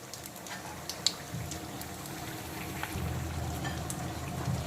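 Dried red chillies and panch phoron five-spice frying in hot oil with a soft, steady sizzle and crackle, close but fairly quiet, with a few faint clicks from the pan.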